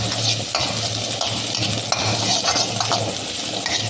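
Ginger, garlic and green chilli sauté in hot oil for an Indo-Chinese chilli egg dish: a close, constant sizzle with repeated scraping stirs of a utensil against the pan, and no talking.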